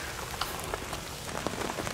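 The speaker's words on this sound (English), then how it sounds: "it's absolutely teeming down with rain now" Heavy rain teems down steadily outdoors, a dense continuous hiss with scattered drops pattering close on a surface throughout.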